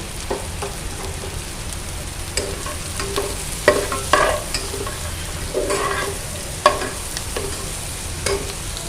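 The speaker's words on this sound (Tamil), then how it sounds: "வெங்காயம் நல்லா வணங்கினதுக்கப்புறம் பீன்ஸ் ஆட் பண்ணிக்கிறோம்" Beans stirred into onions and curry leaves frying in a pan: a steady sizzle with intermittent scraping stir strokes of a spoon against the pan, close up, no voices.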